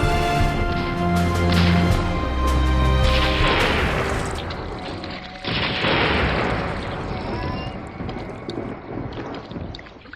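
A cartoon explosion for an animated film: a big booming blast rolls out into a long crackling rumble, then a second burst follows and fades away.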